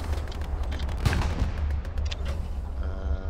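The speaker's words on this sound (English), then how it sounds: "Is that an AT gun? That's an AT gun, I think." A single heavy anti-tank gun shot in the Hell Let Loose World War II game lands as one loud boom near the one-second mark, then a low rumble of battlefield noise carries on with no speech.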